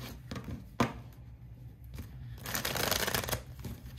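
Tarot cards shuffled by hand for a reading, a quiet riffling with a soft tap near the start and a denser, busier stretch of shuffling toward the end.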